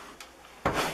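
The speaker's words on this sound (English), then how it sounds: "Cupboard under the sink." A wooden cupboard door under a small butler sink in a luxury self-built shepherd's hut makes a faint click and then a louder closing thump at the end.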